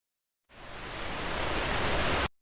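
A heavy burst of rain plays in a Hindi advertisement for Uniko pipes and water tanks, a dense hiss that starts abruptly, swells slightly and cuts off sharply after about two seconds.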